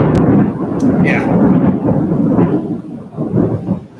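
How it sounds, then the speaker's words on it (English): Thunder rolls during a storm as a deep, sustained rumble that stays loud and close for several seconds, with rain noise faintly underneath. "it's going to be a big thunder boom"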